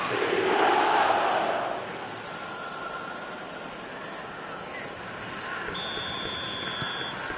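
A stadium crowd in a football video game roars loudly at first, then settles into a steady, distant murmur, with a high whistle-like tone sounding near the end.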